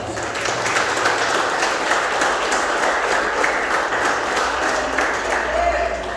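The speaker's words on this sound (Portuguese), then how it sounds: "Você pode dar uma salva de palmas." Sustained, steady applause from a church congregation during a Sunday celebration service, dense and continuous for several seconds at an even level, with a faint voice underneath.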